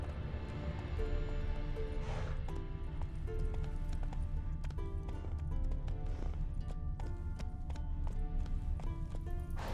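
Hooves of Roach the horse in Witcher 3, a steady rhythmic clip-clop of a running horse, up close over dense game music and ambience.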